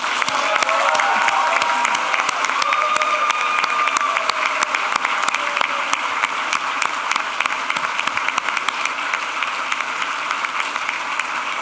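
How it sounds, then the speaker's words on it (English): A crowd at the 2025 Harvard engineering hooding ceremony applauds steadily, with some cheering mixed into the dense, loud clapping. The sound stays full throughout and carries no speech. "A round of applause for them,"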